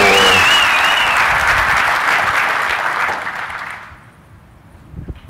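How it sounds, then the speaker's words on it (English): Conference audience at a KubeCon talk gives a speaker a round of applause, dense clapping at full strength that fades out after about four seconds into near quiet. "Big round of applause for Evan Brown"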